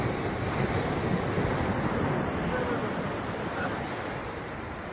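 Sea waves roll steadily onto a risky beach near Rameswaram with a lighthouse and boats nearby, a constant loud wash of surf mixed with gusty wind buffeting the microphone.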